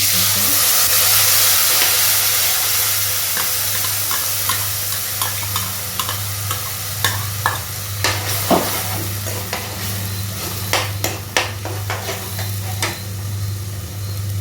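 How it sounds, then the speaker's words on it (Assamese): A thick taro leaf paste sizzles steadily in a pan while a spatula scrapes and taps against it at irregular intervals. "ভালকৈ ভাজি থাকিম, আৰু যিখিনি পানীখিনি নুশুকোৱালৈকে ভাজিয়ে থাকিম।"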